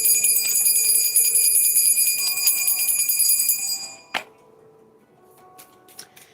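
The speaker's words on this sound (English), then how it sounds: "I'm actually going to ring the bell this morning." A bell rung for a morning mantra gives a loud, bright, sustained ring for about four seconds, then stops abruptly into near-quiet with a few faint clicks.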